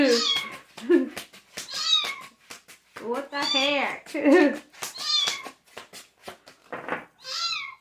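A cat meows repeatedly in long, drawn-out, warbling cries, loud and close, with a person's brief voice heard in between.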